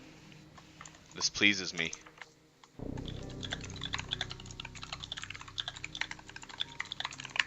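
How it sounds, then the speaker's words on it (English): Rapid clicking keystrokes on a mechanical keyboard fill the second half, quiet but dense and irregular, after a short stretch where someone speaks briefly. "listen to that mechanical keyboard"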